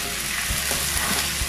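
Shrimp juice poured into sizzling chop suey in a hot pan, a dense, steady frying hiss with a few soft stirring bumps, close and continuous, no voices.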